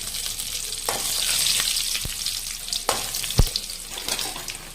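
Hot oil sizzling and crackling as dried chilies and curry leaves are tempered, with sharp pops and spatters scattered over a steady frying hiss, no voices.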